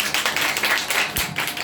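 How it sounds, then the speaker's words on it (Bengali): Applause from a classroom audience greeting three high-achieving SSC students, a dense steady patter of many hands clapping close by with no talk over it. "তিনজনের জন্য একটা হাততালি"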